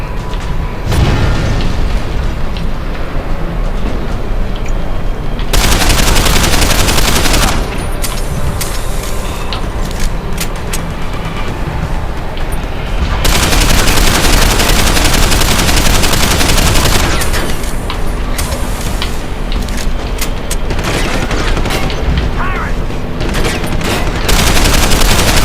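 Gunfire in the video game Deus Ex: Human Revolution, dense bursts of automatic shots and booming blasts in long loud stretches, alternating with slightly quieter gaps of clatter.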